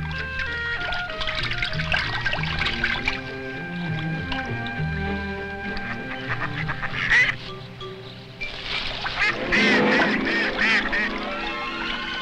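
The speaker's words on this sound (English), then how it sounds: "in a little pond, a mallard duck raises her family" Mallard duck and her ducklings on a small pond, with scattered quacks and peeps over splashing and trickling water, rising to a busier burst of calls near the end.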